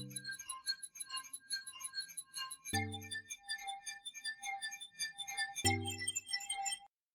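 Synth built from samples of sugar glass, run through a comb filter and flanger, giving glassy, bell-like clinking tones in a repeating pattern, with a deeper chord struck twice under the shimmering pulses, clean and moderately quiet.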